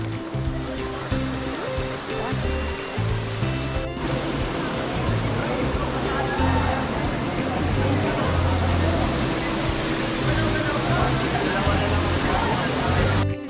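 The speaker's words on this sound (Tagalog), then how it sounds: "Waterfall ba to?" A waterfall on a mountain hike roars as a dense, steady rush of falling water, loud and close, with hikers talking over it.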